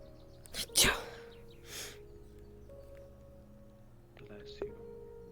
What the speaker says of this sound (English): Threw a sneeze in there for good measure.